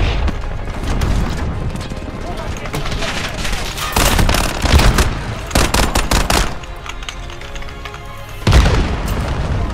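A Modern Warfare video game match with a grenade blast and bursts of gunfire, dense rolling booms and rapid shots layered together at high volume, while a player talks excitedly over the action.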